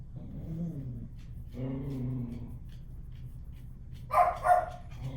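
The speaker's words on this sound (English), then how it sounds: "now you're going to hear the dogs bark" Dogs react to a noise outside with low, rumbling growls that come in two long stretches, then give two sharp, loud barks near the end, fairly close in a quiet room.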